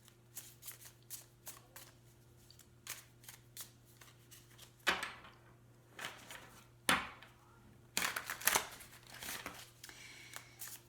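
A Banksy-themed tarot deck being shuffled alone and close up, with quick riffling bursts and soft card taps recurring irregularly throughout, a few louder flurries near the end.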